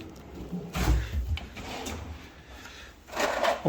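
A kitchen drawer stuffed with plasticware slides open and shut in an Airbnb rental, giving two rattling, scraping bursts at the start and end with quieter handling noise between.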